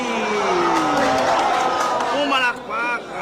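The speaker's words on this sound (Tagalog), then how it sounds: "Pumalakpak ang mga tunay." Basketball game crowd in Bohol cheering and whooping loudly and continuously, with excited voices rising above the roar before it drops off briefly near the end.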